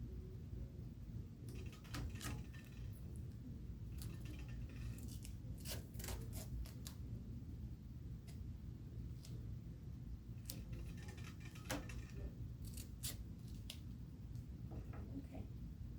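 Scissors snip through tape in a quiet room, giving a series of short, crisp cuts in irregular bursts at close range over a faint steady hiss.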